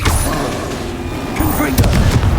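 A Confringo explosion spell cast in the video game Hogwarts Legacy, giving sharp booming blasts with short crackling bursts, mixed with a person talking loudly.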